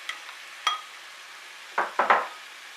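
Chopped cabbage, tomato and bell pepper tossed into a pan for chicken soup noodles, heard as a few clattering drops and rustles, with two or three louder bursts close together near the end.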